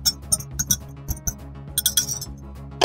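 Kosher salt, garlic powder, paprika and black pepper are stirred together in a bowl, giving close, light clinks and taps at an irregular rhythm, with no talking.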